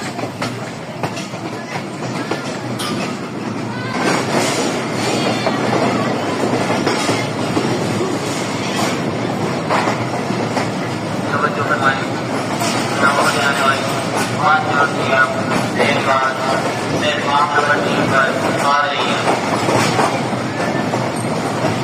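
A Pakistan Railways railcar pulls in to platform 3 at Rawalpindi railway station, its steady rumble and clatter filling the whole stretch, with squealing wheel tones near the end and a voice speaking over it.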